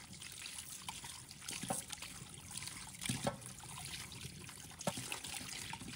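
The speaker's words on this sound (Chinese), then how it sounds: "用流动水清洗" Running tap water trickles and splashes steadily over pig liver being rinsed and squeezed by hand in a bowl, a continuous close stream with occasional louder sloshes and no talking.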